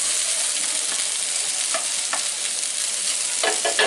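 Chicken and bok choy stir-fry in a hot pan with a loud, close, continuous sizzle. Quick scraping stirs come through near the end, and no one speaks.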